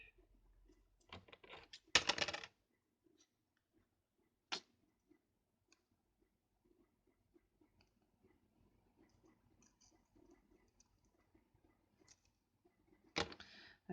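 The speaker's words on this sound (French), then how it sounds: "Avec des ciseaux qui coupent jusqu'au bout," Scissors snip off excess paper while making a small spellbook, giving a few faint, sharp cuts spaced apart over otherwise near-silent ambience.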